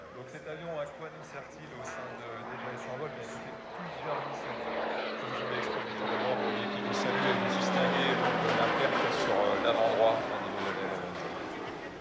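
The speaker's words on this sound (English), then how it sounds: "Here we have a couple of flypasts by a Dyer TBM 940 from the Flight Test Department of the DGA." A Daher TBM 940 single-engine turboprop aircraft from a French flight test department makes a flypast at an airshow, a steady broad engine roar that builds toward the middle and swells louder before easing, with a voice talking over it.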